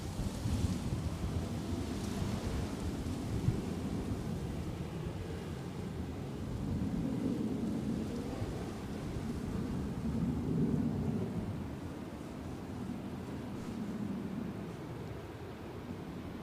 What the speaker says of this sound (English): The wind is whipping up again